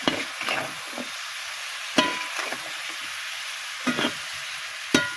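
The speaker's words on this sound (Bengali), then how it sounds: "এবার নাড়াচাড়া।" A spatula stirs pumpkin, chopped with its skin on, in a pan with green chili, turmeric and salt, making a soft sizzle broken by several distinct scraping strokes spaced roughly a second apart.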